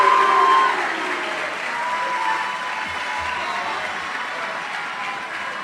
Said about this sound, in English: give them one big round of applause for all of our MVPs as they exit the stage